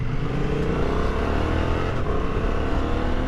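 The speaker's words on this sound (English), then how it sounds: "A little quick shifter action, that's always nice." A 2024 Honda Transalp adventure motorcycle being ridden at an off-road riding event, its engine droning loud and steady throughout with a brief blip around a quick-shifter gear change and no talk.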